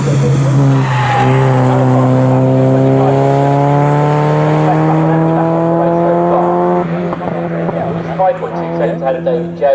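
MG Metro race cars in a Snetterton circuit race roar past loud and close, engine tones sweeping as they pass, under continuous commentary.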